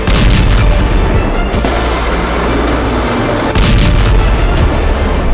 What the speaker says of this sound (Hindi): ज़ेलेंस्की ने कुर्स्क के रण में अमेरिकी अटैकर्स मिसाइलों से हमले किए